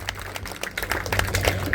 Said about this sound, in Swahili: Pigie makofi mazuri.